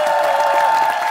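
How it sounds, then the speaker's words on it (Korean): Studio audience on a Korean variety show clapping to welcome a parking-skill performance: a short, dense burst of even applause from a crowd. "큰 박수로 지켜보도록 하겠습니다."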